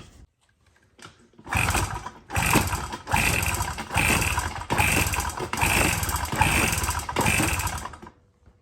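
A Yamaha PW50 two-stroke engine fitted with an aftermarket cylinder, piston and rings is kicked over repeatedly for a compression test, giving about six loud, rhythmic chugging bursts close up, each about a second long with brief gaps.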